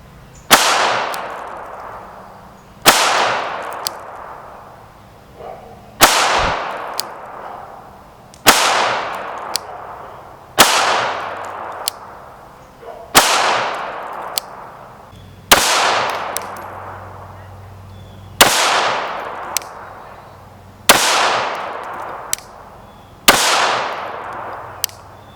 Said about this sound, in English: One of the big positive things to me about the Glock 42 being in 380 is that it's a lot of fun to shoot.